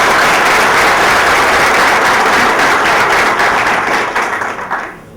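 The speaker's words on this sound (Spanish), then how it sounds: "Yo creo que nos merecemos un aplauso, ¿cierto?" Loud, dense applause from an audience at a university philosophy conference, sustained clapping that holds steady for several seconds before thinning out and fading at the end.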